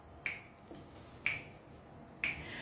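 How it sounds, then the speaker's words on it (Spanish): Finger snapping during a guided body-awareness exercise: three crisp, close snaps spaced about a second apart, with a softer one between the first two, in an otherwise quiet room. "Ahorita vamos a empezar a hacer chasquidos."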